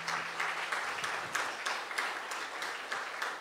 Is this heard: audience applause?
yes